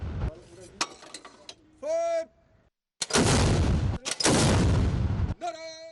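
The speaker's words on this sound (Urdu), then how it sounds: "یوم آزادی پر کراچی میں پاک بحریہ کی یونٹ PNS بہادر میں 21 توپوں کی سلامی پیش کی گئی۔" A 21-gun artillery salute fired by the Pakistan Navy at PNS Bahadur in Karachi on Independence Day: loud, heavy booms in quick succession, with brief tonal blasts before and after.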